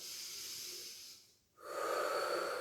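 Heavy, hissing breaths after a cardio workout for the lower body, with a long exhale, a brief pause, then a sharp, loud inhale close to the microphone, with no talking.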